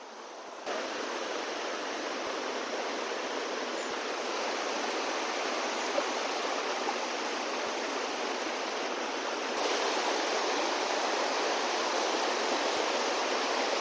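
Waterfall in the hills pouring steadily, a dense, even rush of falling water heard alone and close, growing slightly louder near the end.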